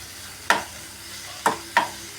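Fresh squid stirred in a frying pan, three distinct scraping strokes of a spoon against the pan at spaced intervals over a quiet background, with no talking.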